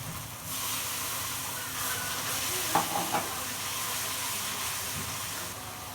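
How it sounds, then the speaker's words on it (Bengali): Spice masala of cumin paste, ginger paste, chili, coriander powder and salt sautéing in a pan for gosht polao, a steady close sizzling hiss throughout with a few soft scraping stirs near the middle. "মশলা কষানো হয়ে গেছে"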